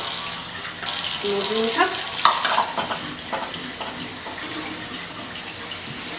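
Running tap water splashes loudly over quinoa being rinsed in a sieve, a steady wash with scattered clinks and bumps, and a voice briefly speaks over it.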